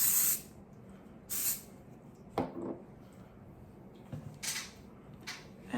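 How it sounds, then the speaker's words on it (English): Short hissing bursts of a texturizing hair spray can, five or six quick pumps at irregular intervals, close and fairly loud in a quiet room. "Finish with the texturizing spray."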